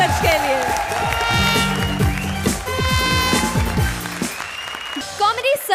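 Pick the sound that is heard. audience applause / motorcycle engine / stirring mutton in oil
audience applause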